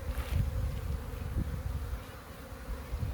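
Swarm of honey bees buzzing outside a hive box during a bee extraction, a continuous dense hum of many insects, fairly close, without talking.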